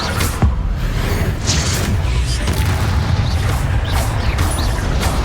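An Incendio fire spell cast in the Hogwarts Legacy video game gives a loud, dense burst and whoosh of flame with booming impacts over a continuous roar of combat noise.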